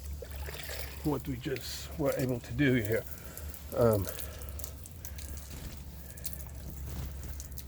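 Water from a hose trickles and pours over the side of an RV to rinse off cleaner, a soft continuous stream under someone speaking briefly near the start.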